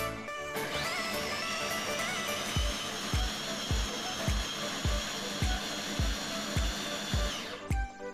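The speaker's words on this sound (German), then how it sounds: "Und das ist wieder Echtzeit mit meiner Maschine. Ich finde die Maschine ja immer noch toll. Die ist ratzfatz, häckselt die alles klein." A kitchen machine finely chops ingredients for a meatball paste, running as a steady high motor whine with a regular thumping pulse of the blades roughly every half second, close and continuous, no talking.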